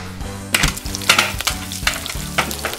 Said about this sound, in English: Hear it sizzle on the grill.